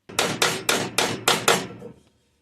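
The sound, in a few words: hammer tapping high spots on a metal joint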